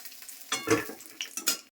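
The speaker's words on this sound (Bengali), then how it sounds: "পটল ভাজা হয়ে গেছে এখন আমি নামাই দিচ্ছি" Pointed gourd frying in a pan of hot oil as part of a vegetarian home meal, with short bursts of sizzle and a few scraping stirs in quick succession, close and moderately loud, no talking.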